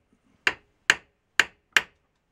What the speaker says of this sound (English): I'm just going to put another ball peen hammer on here and lightly tap on it